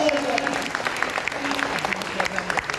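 Applause rises from an audience at a university program marking Rani Laxmi Bai's martyrdom day, fairly faint and spread out, with a voice carrying over the clapping.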